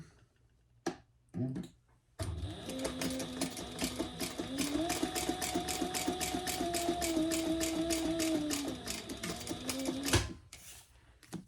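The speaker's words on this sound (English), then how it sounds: "Now I am going to top stitch that" A sewing machine top stitches a fabric cover for a composition notebook, its needle hammering in a fast, even clatter for about eight seconds before stopping, with a few soft clicks at either end.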